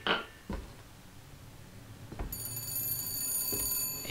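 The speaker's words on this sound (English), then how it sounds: "Answer phone. Well, that's not creepy. I bet that's Fink." Telephone ringing in the video game BioShock Infinite, short repeated rings separated by pauses of a second or more, moderately loud over a low ambient hum, with a sustained tonal ringing building toward the end.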